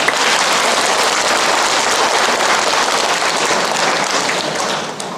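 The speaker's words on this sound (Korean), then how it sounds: "이때는 박수 한번 쳐주면" Audience applause at a church talk or lecture, steady dense clapping that fills the space loudly and evenly before trailing off at the end, with no voices over it.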